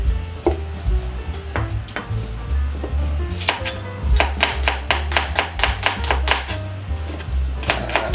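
A sticky-skinned onion being peeled and cut with a knife on a board, with repeated sharp taps and clatter of chopping and utensils over a low steady background hum, no one speaking.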